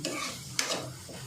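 Peanuts roasting with onions in a pan for kande pohe, a soft sizzle under scraping stirs with one quick metallic tap of the spoon, fairly quiet and close.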